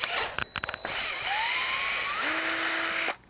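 Cordless drill driving a cone splitter into wood, a loud close whine that rises in pitch as the motor spins up, bogs and strains under load, then cuts off abruptly after a few quick trigger bursts.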